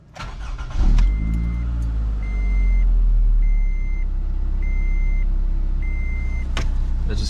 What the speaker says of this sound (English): get in the car, start it up, make sure it runs good